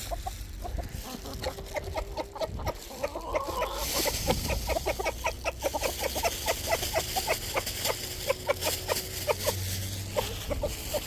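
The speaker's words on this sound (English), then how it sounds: "I don't want no jumping chickens." Homestead chickens clucking busily, a dense run of short repeated clucks and calls from several birds close by, with a brief louder rustle partway through and no talk.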